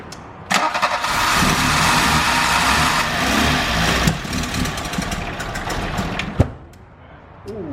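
An 80s Volkswagen engine runs for the first time after ten years of sitting, with a loud, rough, steady roar and a sharp backfire crack near the end before it dies down.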